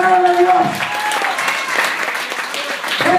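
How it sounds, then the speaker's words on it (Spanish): Congregation applause in a church service, a crowd clapping steadily under lingering tones and some voices, moderately loud and continuous throughout. "Dale ese aplauso"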